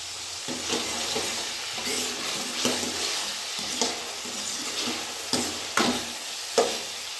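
Onions frying in oil for a Rayalaseema-style egg curry, a steady close sizzle broken by sharp stirring scrapes about once a second, with no talking.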